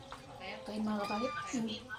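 A pet cat meows a few times, short tonal cries close by but fairly quiet, mixed with a person talking softly nearby.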